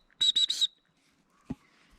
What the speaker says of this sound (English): This lanyard over here has a small whistle on it.